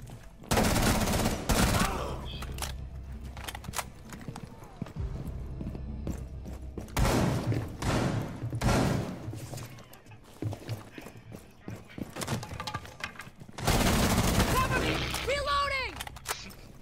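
Rainbow Six Siege gunfire comes in several loud rapid bursts separated by quieter gaps, with excited voices talking between and over the shots.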